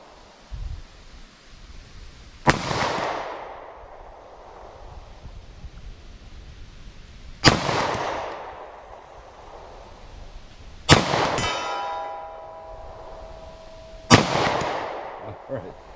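Four sharp, loud subcompact pistol shots in .45 ACP or 9mm full metal jacket fire at an outdoor steel target, spaced a few seconds apart, each decaying with reverberation; the third shot ends in a clear ringing steel hit.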